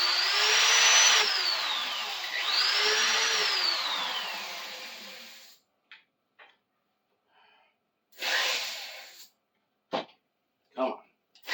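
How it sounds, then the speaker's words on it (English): Power drill with a dull bit straining to bore in two long whining runs that spin up and slow down, followed by quiet gaps with brief short bursts. "This is a dull ass drill bit and it's burning as much as it is cutting."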